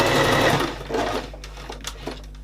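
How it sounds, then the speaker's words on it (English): A sewing machine runs a continuous stitch along the top edge of an envelope cushion cover, a steady close whirring that eases into lighter intermittent taps toward the end. "we're just going to sew all the way"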